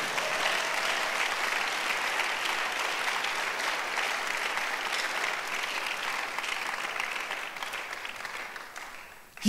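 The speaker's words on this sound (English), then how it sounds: "Oh, give the Lord a better clap of it." Congregation in a church breaking into sustained applause, a thick, even roar of clapping that continues for several seconds before trailing off abruptly at the end.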